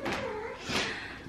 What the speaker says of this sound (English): she's like the loudest cat in the entire fucking world